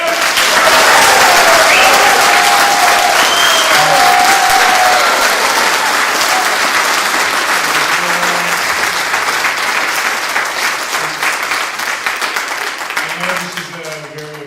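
Loud, dense applause from an audience at a public forum on a closing decision in Western Massachusetts, with a few cheering voices and whistles early on, sustained for about fourteen seconds before gradually thinning toward the end.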